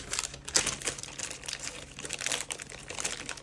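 Taped plastic packaging of a Beyblade launcher being pulled open, with quiet close-up crinkling, crackling and rustling in uneven bursts throughout.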